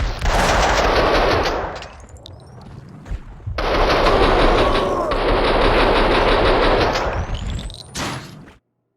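Sustained machine-gun fire in the PC game Max Payne 2 comes in long, loud bursts separated by brief gaps, with rattling shots and some echoing clatter before the sound cuts out.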